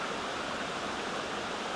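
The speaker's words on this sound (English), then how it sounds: "my little waterfall right here" A small waterfall tumbling over a band of rocks gives a steady, broad rushing hiss, close and even throughout with no pauses and no voices.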